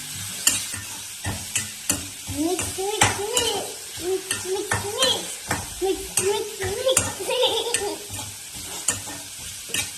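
Potato palya being stirred with salt in a frying pan, a spatula scraping and turning the food in steady repeated strokes over a soft constant sizzle, close and moderately loud, with no talking.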